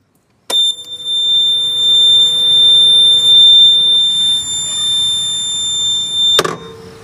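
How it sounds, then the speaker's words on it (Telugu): A 2025 TVS Jupiter 125 DT SXC scooter sounds its side stand warning, a loud, steady, high electronic beep held continuously for about six seconds before cutting off with a click. "అలాగే దీంట్లో మనకి ఒకవేళ మీరు సైడ్ స్టాండ్ వేసినట్టయితే కనుక మనకి బీప్ సౌండ్ అనేది రావడం జరుగుతుంది."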